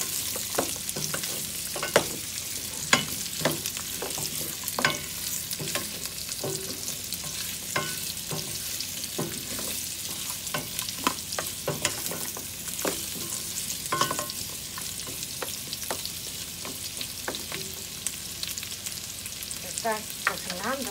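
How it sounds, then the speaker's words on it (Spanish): Pork ribs and onion fry in a pan with a constant sizzle, broken by frequent sharp clicks and scrapes of stirring throughout, close and fairly loud with no talking. "Se le pone la cebolla para que se dore. Aquí están las costillitas doradas."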